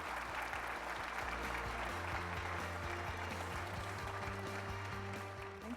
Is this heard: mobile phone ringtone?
no